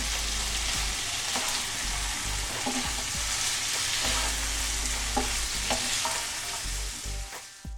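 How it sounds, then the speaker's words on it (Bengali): Thickly cut onions and chicken liver for samosa filling frying in a pan, a loud continuous sizzle with scattered clinks and scrapes of stirring, close, no talk. "আর এই পেঁয়াজটা দিয়ে দিচ্ছি, পেঁয়াজটা মোটা মোটা করে কেটেছি"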